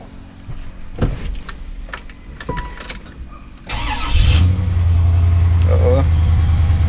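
A 1996 Chevrolet Caprice Impala SS clone with a floor shifter cranks to life and settles into a steady, deep idle. Scattered clicks and handling noises come before the start, with a voice present.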